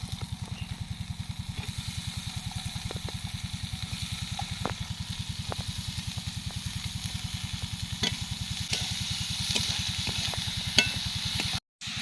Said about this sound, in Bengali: এবার ধীরে ধীরে করে কেটে রাখা লাউয়ের খোসাগুলো দিয়ে দিচ্ছি